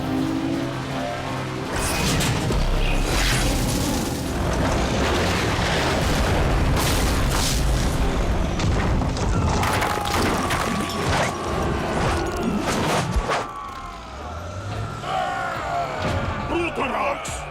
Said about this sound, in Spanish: Hubo otra explosión en el camino